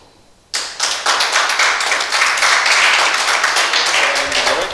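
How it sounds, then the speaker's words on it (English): An audience breaks into a sustained round of applause for a guest, the founder of an entrepreneurship house, at a talk on entrepreneurship in Africa. Dense, steady clapping fills the room after a brief quiet start. "So let's have a round of applause to the founder of Entrepreneurs House, Mr. Erouane Langard."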